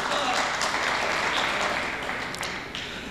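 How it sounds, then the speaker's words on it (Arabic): An audience applauds at an honoring ceremony for a soldier in a hall in Taif, a dense burst of clapping that starts loud and gradually fades over a few seconds. "صفقوا له"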